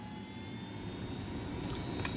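Helicopter engine in Ghost Recon Wildlands, a steady loud turbine drone with a constant whine held throughout, no talking.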